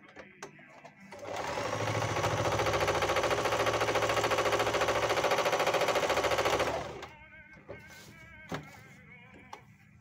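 A Panavox 8160 sewing machine runs a three-step zigzag stitch in one loud, steady whirring burst of about six seconds, with quieter clicks and handling before and after.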